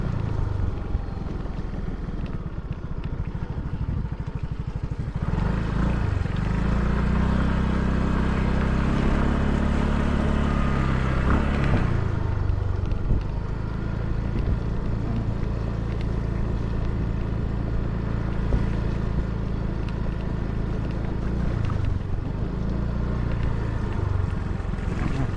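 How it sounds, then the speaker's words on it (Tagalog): A motorcycle engine drones steadily on a slippery, rain-soaked farm road, the low hum rising as it comes closer, holding loud for several seconds, then easing and swelling again. "Pumasok ng motor."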